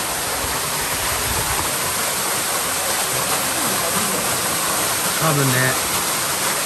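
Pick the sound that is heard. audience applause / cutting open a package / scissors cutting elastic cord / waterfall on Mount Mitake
waterfall on Mount Mitake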